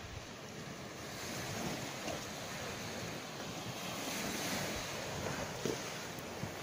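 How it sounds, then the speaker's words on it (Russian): Ocean waves wash steadily onto a Mediterranean beach at sunrise, a continuous broad surf roar with wind buffeting the microphone and no voices. "Ой, какие волны."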